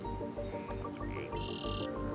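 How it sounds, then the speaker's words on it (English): Birds chirping outdoors, a few short bright calls and a sustained whistle over a low rhythmic background hum, fairly faint. "I can hear the bees buzzing and the birds."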